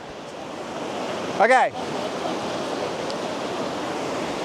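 Flowing river water at an expedition river-crossing site, a steady, broad rushing wash that fills the whole clip, with someone briefly speaking over it.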